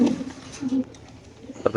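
Pigeons for sale at a market coo in short, throaty bursts close by, with a few separate calls and brief gaps between them.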